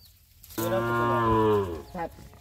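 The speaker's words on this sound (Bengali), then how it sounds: "এটা 2 নাম্বার ষাঁড় বাছুর" A Sahiwal bull calf lets out one long, loud, close moo, followed by a short grunt, against quiet farmyard background.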